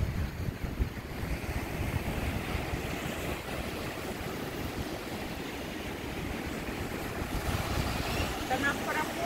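Broadband wash of surf on a beach at a Costa Rica resort near Puerto Limón, with steady wind buffeting the microphone throughout, a continuous roar without distinct breaks.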